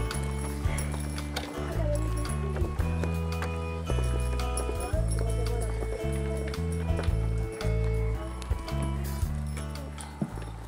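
Horse hooves clip-clop in a steady, repeated rhythm at an outdoor summer theatre performance, with music and voices mixed in alongside the footfalls.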